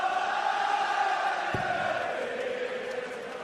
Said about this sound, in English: Crowd in good voice here in Dublin tonight.